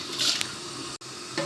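Rice is poured into a pot of hot salted water for restaurant-style biryani, making a brief, close watery rush and splash, followed by a short pause and a faint clink.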